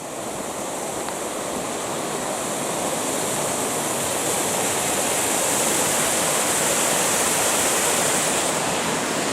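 A clear mountain stream rushes beneath a footbridge in the Tararua Mountains, making a loud, steady, broadband roar of flowing water. It is close to the listener and continuous throughout, with no voices.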